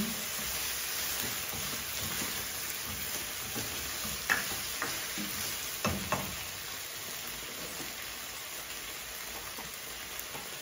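Garlic and onion sizzling as they are stir-fried in a pan, a steady crackling hiss throughout with a few sharper pops and clinks, heard alone with no talking.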